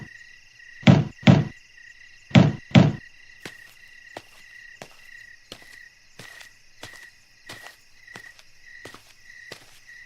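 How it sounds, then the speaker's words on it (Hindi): Someone knocks on the front door of a house: two quick double raps, loud and close, set against a steady night chorus of crickets and frogs, followed by fainter, lighter taps. "तभी कोई घर का दरवाजा खटखटाने लगा।"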